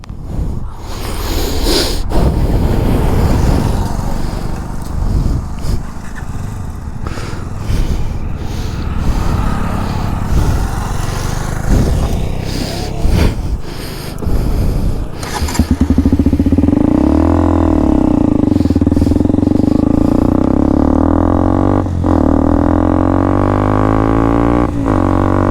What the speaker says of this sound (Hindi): अब अपन चलाएंगे अपनी पुरानी बाइक जो अपने पास थी KTM RC 200